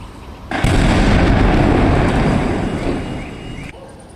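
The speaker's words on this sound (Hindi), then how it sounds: "उसकी आवाज़ भी हम आपको सुनवाएगी कि कितना भीषण ये धमाका था" A sudden, loud explosion in a residential area of Rohini, Delhi, erupts and roars on as a broad rumbling wash for about three seconds before cutting off abruptly.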